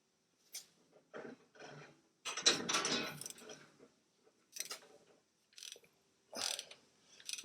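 A ratchet loosens the gearbox oil drain plug on a 2013 Ford Fiesta, giving close, dry clicking bursts separated by short pauses, with no talking.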